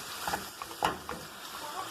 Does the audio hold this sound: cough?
no